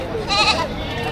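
Goats bleat at a livestock market, with one clear bleat standing out briefly among the crowd noise and nearby voices.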